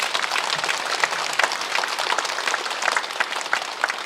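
A church congregation breaks into a burst of sustained applause at a prayer meeting, many hands clapping densely and evenly, filling the room at moderate loudness.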